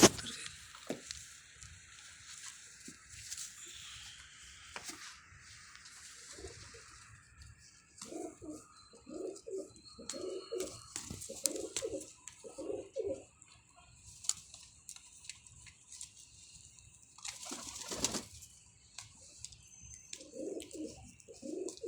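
Several pigeons coo in soft repeated bursts, close by, with a few other bird chirps and scattered clicks and rustles between the calls.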